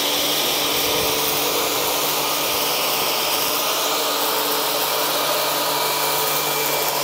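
A Cecotec Conga Rockstar 1500 Ultimate ErgoFlex vacuum cleaner runs at maximum power with its scraping brush, a loud, steady broadband whoosh with a constant motor hum throughout.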